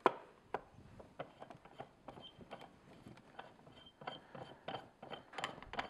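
A tabletop mini fruit press works through fruit packed in a folded bag under a pressing disc, giving a run of close, irregular ratcheting clicks and creaks with short mechanical bursts and no voices.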